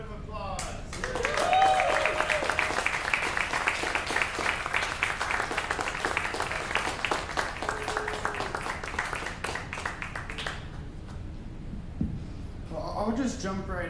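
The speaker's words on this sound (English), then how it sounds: "One more round of applause." Audience applause at an artist showcase, a dense spread of many hands clapping that swells early and then holds steady for a long stretch before thinning out, with some voices and room noise mixed in near the end.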